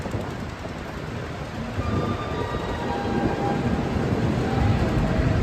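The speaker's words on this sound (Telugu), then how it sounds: "ట్రైన్ కనిపించారు బాగుంది." A train at SMVT Bengaluru railway platform, a steady broadband rumble that grows slightly louder throughout, with faint high whines over the continuous noise and no clear talk.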